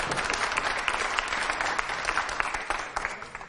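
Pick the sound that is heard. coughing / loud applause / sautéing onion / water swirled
loud applause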